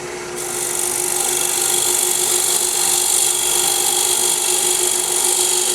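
A freshly sharpened multi-tool cuts the rim of an ambrosia maple jar on a spinning lathe, giving a steady, loud, close hiss-and-scrape that holds evenly throughout with no voices.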